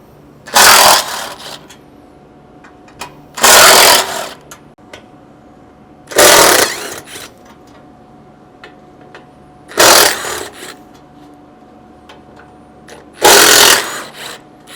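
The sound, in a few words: power tool removing bolts with T40 Torx bit, Bronco winch plate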